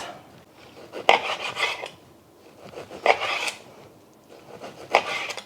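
A knife saws through beef on a board for Thai basil stir fry, three rasping slicing strokes spaced about two seconds apart, each ending in a light tap, close and clear without speech.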